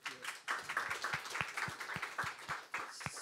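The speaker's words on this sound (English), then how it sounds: "A warm-up applause." Light warm-up applause at a startup demo day pitch event: a small scattering of claps in a loose, uneven rhythm, fairly faint and sparse rather than a full ovation.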